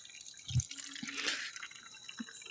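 A water bottle being filled at a tap outside a college at night, heard as faint scattered drips and a soft trickle of running water with a couple of low thumps, quiet and without speech.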